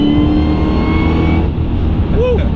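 American sports car engine revving hard as it accelerates, a loud dense roar that holds throughout, with a brief voice near the end.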